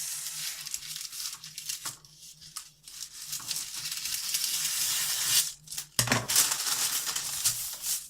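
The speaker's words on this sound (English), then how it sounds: "so that I get a straight edge to cut along like this, and I cut a rectangle off." Scissors cut a rectangle of greaseproof paper along a folded edge, with close, crisp snipping and slicing strokes and papery crackles in bursts, separated by short pauses.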